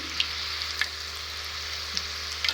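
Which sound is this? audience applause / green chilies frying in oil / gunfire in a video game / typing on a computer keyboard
green chilies frying in oil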